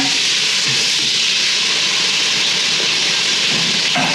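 Onions sizzle and fry in a pan while cabbage mixed vegetables are being cooked, a loud, steady, close hiss throughout with no voices.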